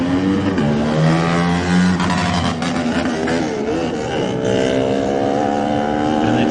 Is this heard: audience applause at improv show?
no